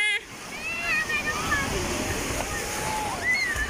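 Artificial waves wash and splash continuously in a water park wave pool, a dense, steady rush of water with faint high voices and whistle-like tones carrying over it.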